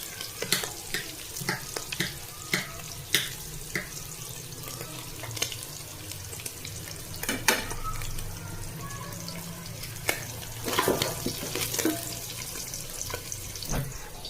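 Chicken, vegetables and chopped garlic stir-fry together for a Chinese-style vegetable dish, giving a soft, continuous sizzle with frequent sharp clinks and scrapes of a spatula on the pan, close by and moderately quiet, with a faint voice at times.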